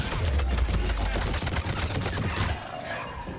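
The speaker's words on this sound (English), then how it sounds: "I do a lot better with the assault rifle." Assault rifle fire in Mass Effect 3 comes as a dense, rapid stream of shots, loud and close, and holds for several seconds before it eases slightly.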